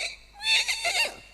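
A voice imitates a horse neighing: one short, high whinny with a rising and falling wavering pitch, fairly close and alone.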